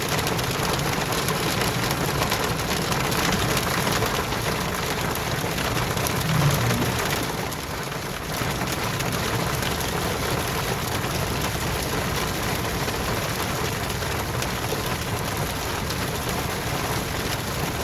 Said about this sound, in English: It's raining ice.